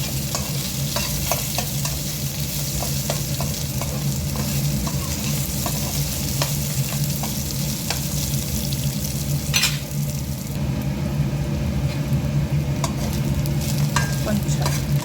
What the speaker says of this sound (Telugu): కొద్దిసేపు వేయించుకోవాలి.